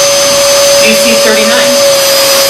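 Dyson DC23 vacuum cleaner running up close, a loud constant motor whine with a rushing air hiss from the exhaust, a brief voice murmuring underneath partway through.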